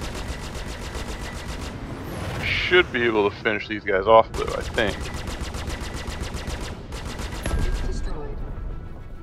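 Panther repeater cannons on a Super Hornet in Star Citizen fire long, rapid bursts of loud, fast-repeating shots in a space dogfight, cutting out briefly while someone talks, then opening up again.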